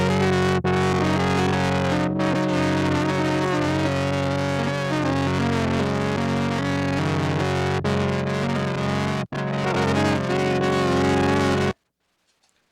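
Lo-fi noise from a Generation Loss MKII pedal on the Blank Forms model, shaped by its EQ, blended into a dense distorted sustained tone that plays loudly and continuously for about twelve seconds before cutting to silence.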